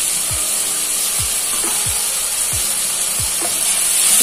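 Chilli powder, coriander powder and garam masala fry in oil for a seafood dish of kanava squid, kadamba fish and prawns, a steady close sizzle broken by several low scraping thuds of a spoon stirring the pan, with no talk.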